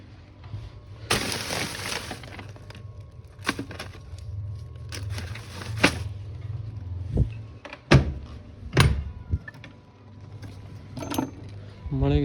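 Keys jangling as someone rummages for a bike key, with bursts of metallic rattling, a few sharp clacks and knocks, and a low steady hum underneath, along with some talk.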